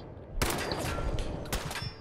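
Two sharp gunshots in Fallout 4, the first cracking loudly and trailing off, a second brief blast following about a second later.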